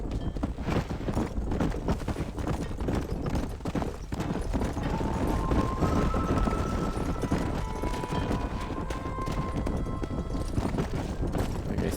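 A horse's hooves clip-clop at a steady trot in the video game Red Dead Redemption, rhythmic and continuous for the whole stretch, with faint background ambience and a few brief tonal sounds.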